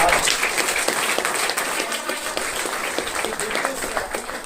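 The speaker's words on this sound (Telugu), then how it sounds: "సో నా ఫ్రెండ్కి ఒకసారి మీరు క్లాప్స్ ఇవ్వాలి" Audience applause at a business CEO meeting in Ghatkesar: dense, steady clapping from a large crowd that fills the whole stretch at an even, loud level, with a few voices mixed in.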